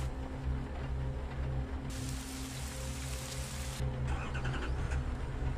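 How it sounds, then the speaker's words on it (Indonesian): A pickup truck drives at night in steady rain, with a constant low engine rumble under a broad wash of rainfall hiss that swells and drops, and no voices. "Menggunakan mobil pickup."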